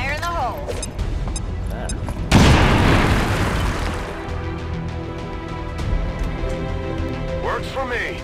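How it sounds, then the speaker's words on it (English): Grenade blast in XCOM 2, a single loud boom bursting out about two seconds in and rumbling away, with game music and effects continuing underneath. "Throw a grenade now."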